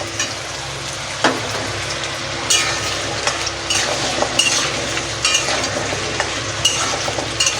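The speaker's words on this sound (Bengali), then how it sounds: "নুন দিয়ে ভালো করে ভেজে নেব" Potato pieces and water chestnut fry in oil in a pan with salt, giving a steady loud sizzle broken by scraping stirs and occasional utensil clinks against the pan.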